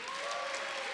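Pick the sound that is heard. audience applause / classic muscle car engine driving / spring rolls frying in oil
audience applause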